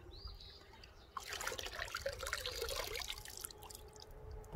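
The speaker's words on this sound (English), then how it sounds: "I'm gonna go ahead and give it a rinse" Water starts running after a quiet second, splashing and trickling steadily as a freshly spray-painted beach tumbler is rinsed, close by.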